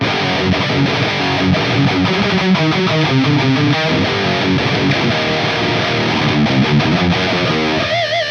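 A loud, heavily distorted electric guitar riff played through a lunchbox amp, chunky chugging chords ringing out steadily and ending on a sustained, wavering note.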